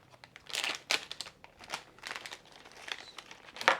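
Plastic packaging for an MWUPP finger-grip phone holder is torn open at close range, with crisp crinkling and ripping in short, uneven bursts.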